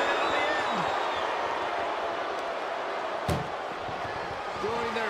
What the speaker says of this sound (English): Just to shut that first door.